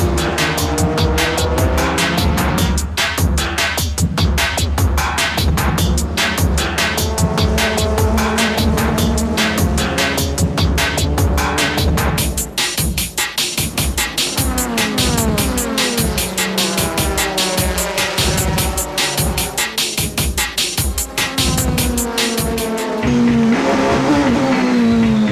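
Toyota Supra race cars in a JGTC race, including the AU Sirmo Supra, roar past one after another with loud revving engines, gear-change pulses and brief tire squeals, close and continuous throughout.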